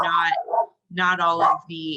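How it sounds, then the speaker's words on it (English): A dog barks indoors in a few sharp, close bursts during a telehealth session, its yelps sitting under and between a person's talking. "sorry about the dog there"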